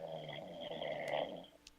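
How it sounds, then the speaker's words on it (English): Someone snores in a steady, droning rasp that holds for over a second before fading, a faint, low sound in a quiet room with no talking. "And somebody's fucking snoring."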